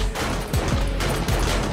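Rapid gunfire from a zombie-shooting video game crackles in quick bursts of several shots close together, loud and dense throughout the short stretch.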